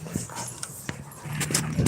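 Dogs named Duchess and Oliver move about close by, with short sharp dog sounds and soft whimpers scattered over a quiet background, plus a few light footfalls.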